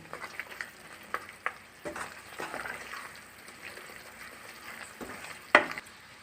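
A lump of asafoetida fries in hot oil for an anchovy (kozhuva) pickle. A steady low sizzle runs throughout, broken by sharp clinks of a utensil against the pan, with one louder knock near the end.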